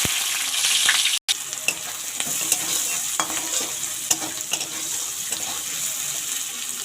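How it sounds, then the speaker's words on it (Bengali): Onions sizzle in hot oil in a pan with black cumin and dried red chili, a steady bright frying hiss punctuated by several scraping stirs and clinks of a spatula, close by, with no talking. "এবার আমি পেঁয়াজ দিয়ে দেবো।"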